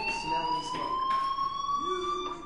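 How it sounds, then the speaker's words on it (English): Fire alarm in Life Is Strange, a steady electronic tone that holds constant through the whole stretch, faintly rising, with periodic pulsing bursts layered over it. "Hey, do you hear that fire alarm?"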